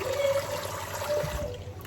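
Running tap water splashes and trickles steadily as meat is rinsed for Nigerian egusi soup, a close, continuous wash with a brief faint hum beneath and a slight dip in flow near the end.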